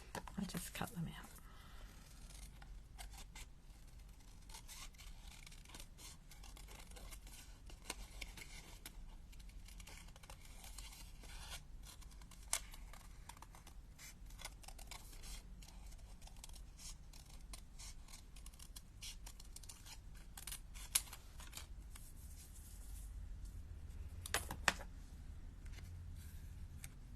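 Scissors snip through paper card pieces in quick, close, crisp cuts that come in irregular bursts over a quiet, hushed background with faint whispered talk.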